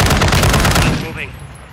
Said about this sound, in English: The enemy fire!